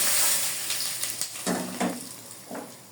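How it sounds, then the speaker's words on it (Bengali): Hot oil poured over momo filling crackles and sizzles, strongest at first and then breaking into a few short spattering bursts that fade. "আর এখানে দিয়ে দিব গরম তেল"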